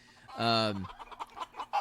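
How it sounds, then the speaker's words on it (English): A single chicken gives one loud, close, drawn-out harmonic cluck, followed by softer scattered clucks and faint background noise. "This is a fun chicken."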